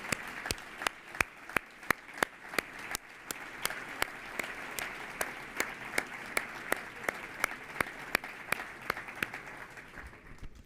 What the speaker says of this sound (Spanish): me gustaría que David Lozano, que le tributásemos en nombre de todo Aragón un fuerte y cálido aplauso.